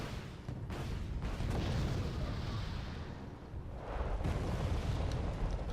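Distant artillery barrages in the strategy game Wargame Red Dragon, rolling booms and rumbling blasts that swell and fade in two broad waves, continuous and fairly dense.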